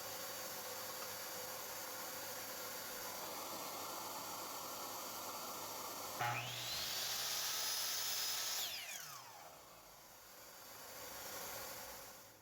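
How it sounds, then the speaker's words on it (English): A power drill whines steadily as it bores pilot holes into strips of pallet wood for a tabletop, the motor pitch rising and then winding down near the end over a constant background hiss. "I will pre-drill holes so it doesn't split"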